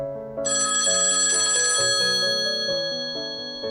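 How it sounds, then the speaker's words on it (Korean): A telephone ringtone sounds as a business call is placed, a loud, close electronic melodic ring of shifting tones that continues steadily for several seconds with no voices. "남자는 거래처에 전화를 걸었다."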